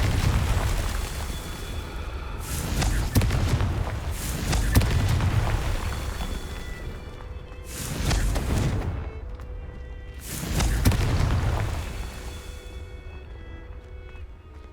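Confringo explosive spell blasts in the Hogwarts Legacy video game, several loud booming bursts spaced a few seconds apart, each swelling and fading over a rumbling game soundscape.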